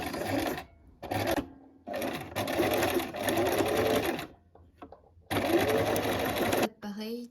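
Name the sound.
sewing machine stitching elastic back and forth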